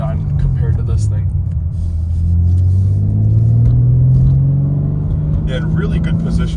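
2023 BMW M4 engine rumbling from inside the cabin while driving, a deep, steady drone that rises in pitch mid-way as the car gains speed, with faint speech-like sounds at times.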